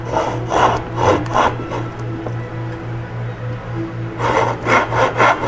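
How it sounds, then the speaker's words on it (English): An old handsaw crosscuts wood in steady back-and-forth strokes, a raspy rhythmic rubbing that pauses midway and then resumes, close to the microphone over a constant low electrical hum. "So we'll just use the old handsaw."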